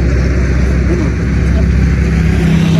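Cars and trucks pass on the road beside a street-corner mami noodle stall, making a loud, continuous traffic roar that fills the whole clip without a break.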